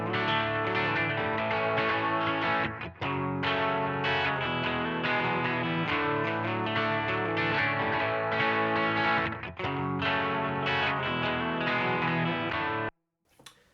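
Electric guitar with distortion and effects plays an intro melody line over a looped four-chord backing, a continuous dense sustained riff with brief dips, stopping abruptly near the end; no talking.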